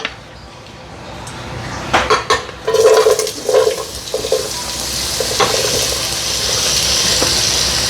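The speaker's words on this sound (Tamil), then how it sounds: "இப்போ நாங்கள் அதுக்கு தேவையான வெங்காயம் போடுவோம்." Onions go into hot oil in a pan for a squid curry. Clattering drops and stirring set off a frying hiss that swells into a steady, close sizzle.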